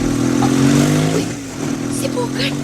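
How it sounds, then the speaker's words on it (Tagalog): A motorcycle goes by with a low, steady engine drone that is loud at first and fades after about a second. People talk over it. "si Bugard man tong sakay sa motor"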